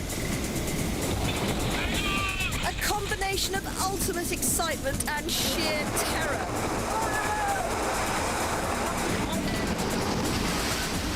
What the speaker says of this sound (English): Big wave!